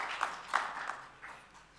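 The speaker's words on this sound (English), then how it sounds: "A round of applause once again," Applause from an audience at a Global Health Summit, a short, light patter of clapping in a room, fairly soft and thinning out after a couple of seconds.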